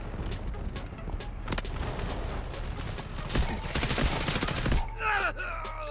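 Rapid bursts of video game gunfire from the shooter Delta Force, dense and continuous, with heavy explosive thuds and a radio-like voice mixed in toward the end.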